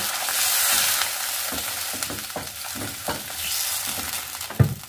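Spices frying for an egg curry sizzle loudly at the start, then water hits the hot pan, followed by a run of stirring scrapes and clinks and a sharp knock near the end, with no talking.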